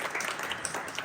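Brief steady applause from a panel audience welcoming a guest at a young-adult authors' Pride event, moderate and slightly distant, with no pauses.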